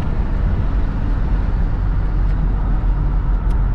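Constant low road rumble and tyre roar from inside a moving vehicle in traffic with a truck running alongside, loud and steady with no distinct pass-bys.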